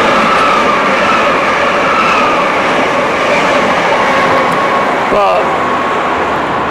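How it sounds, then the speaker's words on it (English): A fast train roars through a railway station, a loud continuous rumble and rush of wheels on rails that stays steady, with a brief squeal near the end and a voice speaking over it. "It also has fast trains too."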